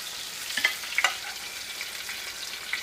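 Seasoned mushrooms sizzle in a saute pan, a close steady frying hiss broken by a couple of sharp spatula clinks, no talking.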